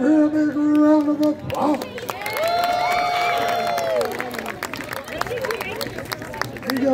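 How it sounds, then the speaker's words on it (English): A crowd at pig races on a pumpkin farm cheers and applauds, a noisy mix of clapping and shouts beneath a loud announcer's voice and a whistle-like tone. "I'd like everybody to give it a big round of applause."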